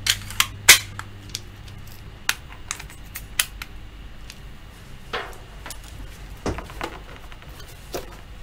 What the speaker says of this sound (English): We're actually going to staple that one in.